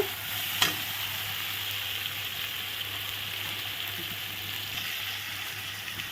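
Spices stirred in a hot frying pan for a vegetarian dish, a steady close sizzle and fry running throughout, with one brief scrape of the spoon near the start and no talk.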